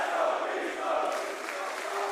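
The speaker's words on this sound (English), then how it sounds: "Crowd certainly getting behind them at any given opportunity here." Esports arena crowd at the Manchester Major grand final roaring and cheering in a sustained, dense wash of voices that swells and holds steady throughout.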